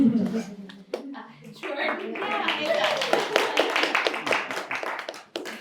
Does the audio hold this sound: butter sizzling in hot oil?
no